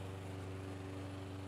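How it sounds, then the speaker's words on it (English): A self-propelled lawnmower cuts grass somewhere nearby, its steady engine drone holding even and continuous throughout with no pauses, heard at a moderate distance over a garden during the potato harvest. "And that is a self-propelled lawnmower."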